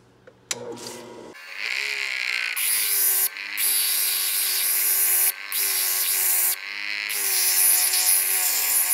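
Power sanding of a cabochon or guitar pick, a loud steady whirring drone with brief pauses as the piece is lifted from the sander, with no talking.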